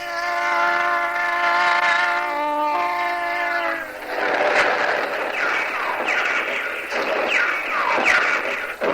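Train sound effect from a Telugu radio drama: a loud, sustained whistle sounds for about four seconds, then gives way to a rolling rumble and rhythmic clatter of a running train up close.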